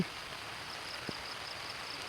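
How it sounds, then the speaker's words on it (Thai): Soft, steady rain hiss fills the background at Lam Pao Dam in Thailand, with one faint tap partway through and no voices. "ตอนนี้ฝนตกครับผม"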